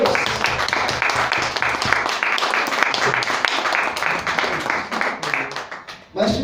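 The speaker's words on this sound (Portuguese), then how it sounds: "Vamos dar uma salva de palmas para a palavra de Deus" A church congregation applauding after a sermon, a dense wash of many hands clapping that thins out briefly near the end, with voices mixed in under the clapping.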